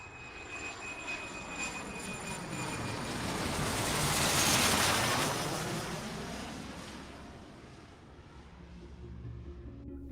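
Air Transat Flight 236 airliner engines fire up and roar, a loud broadband jet rush that swells to a peak mid-clip and then eases back, with no voices over it.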